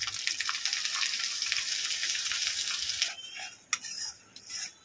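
Ginger-garlic and bay leaf spice paste sizzles loudly in a pan for a soybean curry, then quiets as a spoon stirs it, with a few sharp clinks of utensil against the pan near the end.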